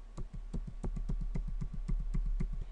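Computer keyboard keys pressed in a rapid, even run of about a dozen sharp taps, Control V hit repeatedly to paste copies of a PowerPoint slide tile, close and clear with no talk.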